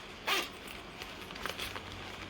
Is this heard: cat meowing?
no